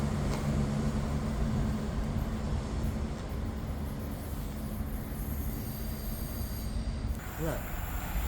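A CrossCountry passenger train pulls away from Nuneaton station on the West Coast Main Line, its steady rumble and low rolling roar continuous throughout, with a brief wheel squeal near the end.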